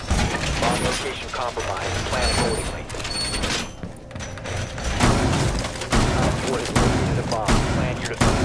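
A French shotgun firing in Rainbow Six Siege on the Kafe Dostoyevsky map: loud, repeated blasts packed into dense game noise with mechanical clatter and rattling.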